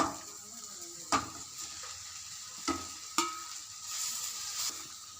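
Chapati noodles are stirred in a pan with sautéed tomato and onion, a soft continuous sizzle broken by several sharp scrapes and knocks of a spoon against the pan at irregular intervals.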